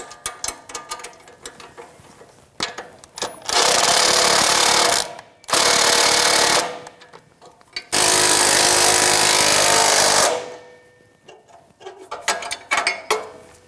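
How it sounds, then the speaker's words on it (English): Power tool driving a 14mm socket to snug down an exhaust bolt on a catalytic converter and pipe assembly of a 2005-2010 Toyota Tacoma 2.7L, in three loud close bursts of a few seconds each, separated by quiet handling noise. "using a 14mm socket to snug down the bolt"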